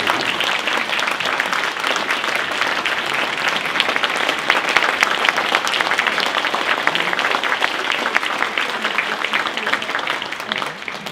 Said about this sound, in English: So let's have a round of applause for all of these outstanding